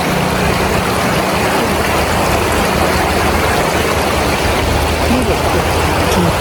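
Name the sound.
river water flowing at Pahalgam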